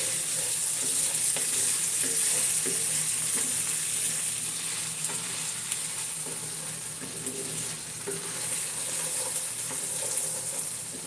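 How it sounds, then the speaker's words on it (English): Meat browns in a frying pan with a loud, continuous hiss and crackle that holds steady throughout, with no voices over it. "Okay, we're just browning this meat. We're not cooking it all the way through because, can you hear it though?"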